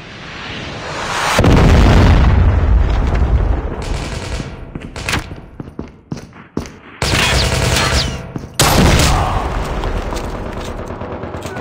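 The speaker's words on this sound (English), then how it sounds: "Be advised, hostile Predator missile inbound." Loud explosions and bursts of gunfire in Call of Duty Mobile, with a deep, heavy missile blast rumbling near the start, then choppy pops and shots, and a second strong blast near the end.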